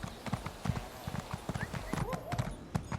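Slow horse hooves clip-clop at a steady walking pace in the video game ESO Greymoor, crisp and close under faint background music.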